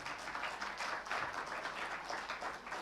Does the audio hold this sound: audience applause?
yes